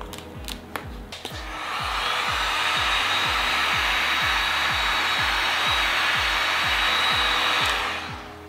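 A heat gun blows a steady, loud whoosh of hot air while warming vinyl wrap on a BMW m235i mirror cap, rising after a few clicks and holding unbroken for several seconds before cutting off.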